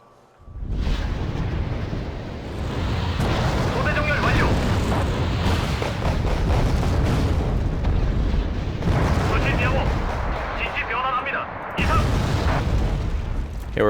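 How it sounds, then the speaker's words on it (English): Mortar fire in the game Wargame: Red Dragon, a near-continuous wash of loud booming blasts with rumbling low end that runs almost the whole stretch, briefly easing near the end before resuming. "Okay, we're firing mortars all day."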